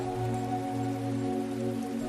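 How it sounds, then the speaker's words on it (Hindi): Rain falling steadily, a soft continuous hiss of drops heard at moderate distance, mixed with a faint low hum throughout. "अब चूंकि धरती पर लगातार कई सालों तक बारिश होती रही"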